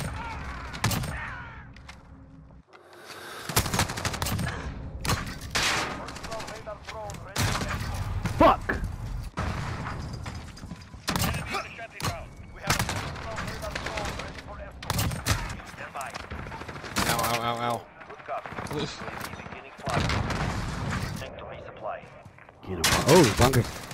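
Rapid gunfire and bursts of shots from Modern Warfare multiplayer, loud and frequent throughout, mixed with game effects and a voice talking over the action.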